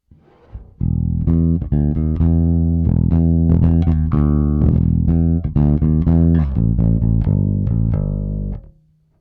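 Clean electric guitar, Ibanez Promethean P5110 amp with vibe control off, playing chords and notes, steady and fairly loud, ringing out at the end with no talking.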